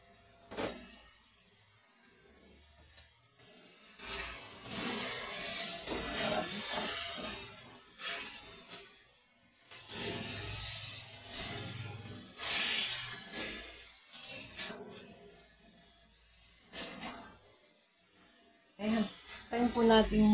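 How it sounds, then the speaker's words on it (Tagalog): Pork cooks in a covered pot, boiling and sizzling with bursts of hissing steam and crackle that swell and fade over twenty seconds, while someone talks between them. "Ayun, kumukulo na siya."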